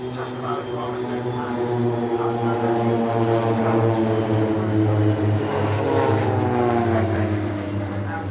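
Aerobatic propeller aircraft flying a double tunnel crossing at an air show, a loud, sustained engine drone with a shifting pitch as the planes pass, while a commentator speaks over it.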